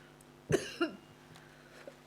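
A single sharp cough, followed by a smaller second one, heard fairly close in a quiet council meeting room with faint background hum.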